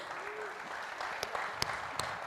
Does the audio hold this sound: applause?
yes